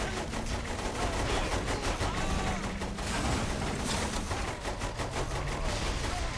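Rapid bursts of gunfire crackle almost continuously in the video game Saints Row 3, dense and loud over a rumbling game background, with a voice talking briefly over the shooting.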